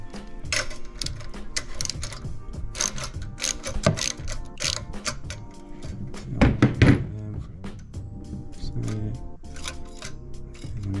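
Ratchet working a mini bike carburetor fastener, with quick uneven clicks and metallic clinks close up, interrupted by a few louder thunks, and speech in between.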